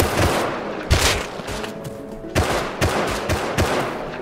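Rust video game gunfire: several sharp shots in a short, uneven burst, up close over steady background noise, with no voices.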